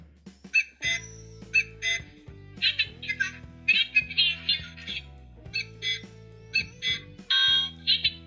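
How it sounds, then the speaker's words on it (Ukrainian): A Xinjia XJ-665N talking electronic wristwatch alarm beeps in rapid, bright chirping bursts, repeating in a quick pattern, close and fairly quiet, with no voices. "Ось так звучить будильник."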